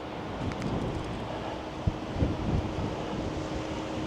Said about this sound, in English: Got a windy day here today, even summertime.